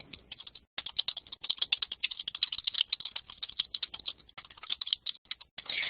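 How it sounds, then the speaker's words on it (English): Someone types a message on a computer keyboard: rapid, uneven bursts of close key clicks, with a brief pause early on, then continuous clatter alone. "you can type in a message in the content"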